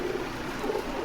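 A fancy pigeon at a pigeon farm coos softly: a low, brief, throaty murmur close by, with no talk over it.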